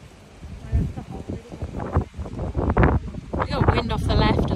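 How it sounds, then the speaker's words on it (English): Wind buffets the microphone on an open golf course as gusts roar and rustle over about four seconds, loud and uneven. A voice speaks over it. "We got wind off the left as well."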